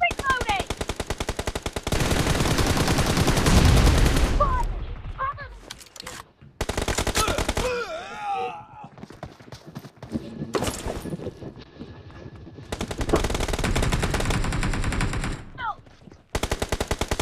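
Loud automatic gunfire in the BGMI mobile game comes in long rapid bursts broken by short pauses, with game effects and faint voices in the gaps.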